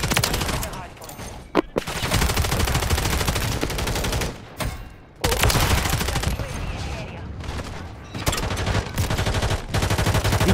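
Dense, continuous gunfire from Call of Duty: Modern Warfare 3 in a crowded Shipment match, with rapid overlapping shots that pause briefly twice, under loud game noise.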